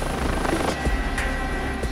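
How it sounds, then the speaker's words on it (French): A rescue helicopter of the high-mountain gendarmerie, rotor and turbine droning steadily and loudly close by with a low pulsing thump throughout, no voices. "Pour s'y rendre, un seul moyen, l'hélicoptère."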